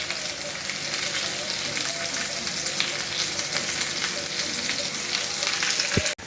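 Slit green chillies drop into hot oil in a frying pan for a Bengali vegetarian dish, giving a steady loud sizzle that runs throughout with a brief clatter near the end.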